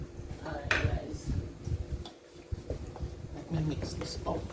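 Sweet potato pudding mixed in a bowl with a utensil, light scraping and clinking of the spoon against the dish coming in bursts under a person talking nearby.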